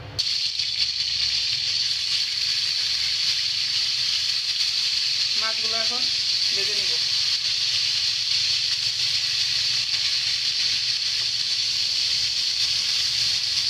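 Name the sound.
tilapia fish frying in hot oil in a wok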